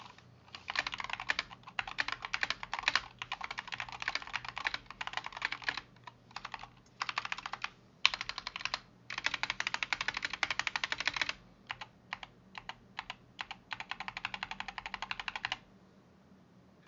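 Typing on a Wooting Two HE gaming keyboard, a close, steady stream of crisp key clacks in fast bursts separated by short pauses, with no talking.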